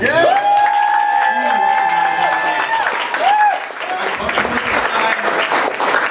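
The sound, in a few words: audience applause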